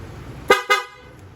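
Two quick, loud blasts of an installed vehicle air horn in close succession, close by, over a low background hum.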